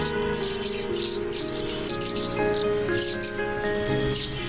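Small birds chirp and tweet in a quiet home garden sanctuary, several overlapping calls repeating against a soft steady background hum.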